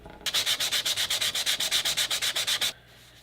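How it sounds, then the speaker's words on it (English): Chisel knife shaving a chamfer on a wooden axe handle during a restoration, about sixteen quick, evenly spaced rasping strokes close up, then it stops abruptly into quiet. "get a little bit of chisel action since it's a chisel knife"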